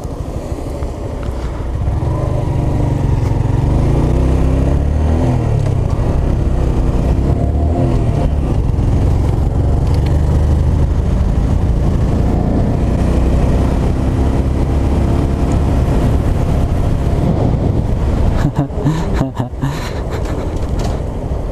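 A 2017 Honda Grom motorcycle engine drones loud and close while riding through city streets, a steady buzzing hum with shifting pitch that eases and stutters near the end, no talk.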